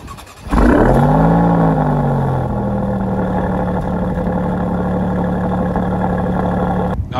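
A Maserati Grecale Trofeo with a twin-turbo 3-liter V6 starts up with a sharp burst, then revs and settles into a loud, steady idle heard up close for several seconds before cutting off.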